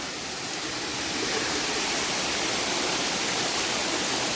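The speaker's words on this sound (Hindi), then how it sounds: "ऊपर से झरना आता है, थोड़ा दिखा देता हूँ मैं आपको" A forest waterfall pours down in a hidden jungle spot, a steady broadband rush of water that stays even and fairly close throughout, with no voices over it.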